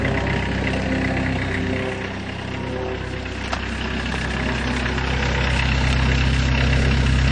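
An old diesel van engine idles steadily after a cold start, a loud, constant low rumble with a faint knocking rhythm that holds throughout and swells slightly toward the end.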